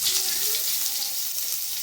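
Chopped onions with one green and one dried chilli fry in a small amount of oil, giving a steady, close, hissing sizzle that runs without a break.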